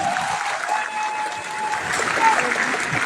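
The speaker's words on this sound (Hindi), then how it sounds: "सर के लिए एक बार जबरदस्त ताली होना चाहिए।" Audience applause at a network marketing business talk, a steady broadband patter of many hands held fairly loud across the whole moment, with crowd noise mixed in.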